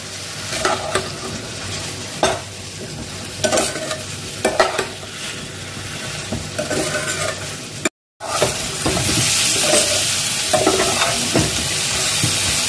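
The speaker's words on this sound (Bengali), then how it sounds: "এঁচোড়টা ভালো করে কষানো হয়ে গেছে" Young jackfruit sautés in a pan with turmeric, chili powder and cumin, a continuous sizzle broken by repeated scraping stirs, a brief gap, then a louder, steadier frying hiss.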